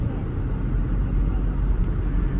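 A car setting off on a hot day, with a steady low engine and road rumble close by and faint voices underneath.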